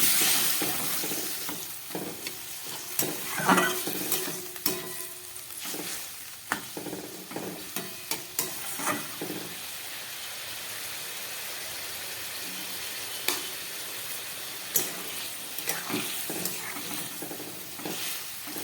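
Vegetable curry bubbling and simmering in a pan after water is added to the cooked-down vegetables, with a steady close hiss, bursts of bubbling and scattered clinks of stirring throughout, no talk.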